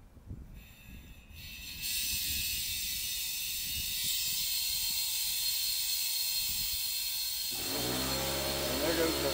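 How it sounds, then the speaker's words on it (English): An air compressor kicks on partway through, a steady loud hiss and hum filling a modified Harbor Freight 5-gallon air tank, beginning with a low rumble before the motor's drone starts and continues to the end. "And there goes the air compressor."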